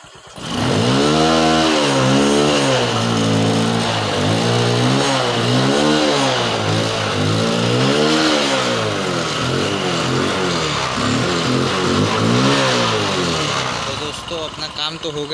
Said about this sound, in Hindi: तो दोस्तों गाड़ी स्टार्ट हो गई।